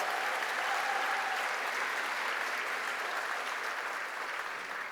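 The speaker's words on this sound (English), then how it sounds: "give her a round of applause" A large audience at the Hispanic Federation Awards 2025 applauds the speaker's mother, a dense, steady wash of clapping that carries on for about five seconds and thins slightly near the end.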